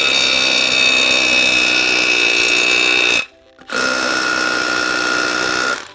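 A Milwaukee drill bores holes with no dust extraction, giving a loud, steady high whine that stops briefly and then runs again for a second hole.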